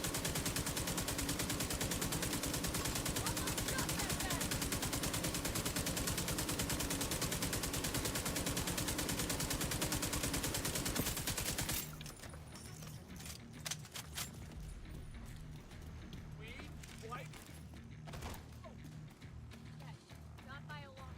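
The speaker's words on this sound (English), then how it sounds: "Oh, they're going off with the turret." A turret in the video game Division 2 fires a loud, continuous rapid stream for about twelve seconds, then stops. Quieter game sounds and scattered clatter follow.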